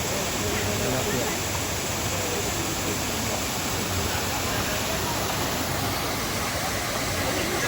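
Waterfall at Shifen, Taiwan, a loud, steady broadband roar of falling water that fills the whole span without pause.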